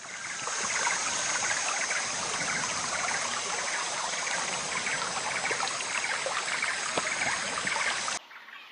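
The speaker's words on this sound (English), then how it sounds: "The stream flows on, carrying away the last traces of blood." A stream in South Asian wild habitat flows steadily with a dense, continuous rushing and trickling sound. The water is close and loud and stays even throughout until it cuts off abruptly near the end.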